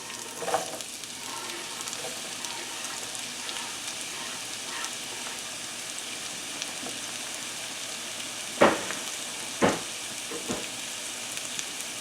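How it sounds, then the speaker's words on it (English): Onions sautéing in hot extra virgin olive oil give a steady close sizzle and hiss, broken by a few sharp scrapes of a utensil against the pan, with no voices. "Hot pan, then you get hot oil right away, and then you can start to saute your onions"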